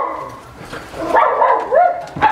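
Guard dogs at a house let out short yips and whiny barks in a brief cluster, close by and moderately loud, with no talking over them.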